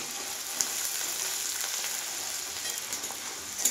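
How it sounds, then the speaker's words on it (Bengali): Two chopped onions sizzle steadily in hot oil over a charcoal fire, a continuous bright hiss with a few small pops, close and fairly quiet. "দুটা কাটা পেঁয়াজ দিচ্ছি। ভালো করে এটাকে আমি লাল লাল করে ভাজবো।"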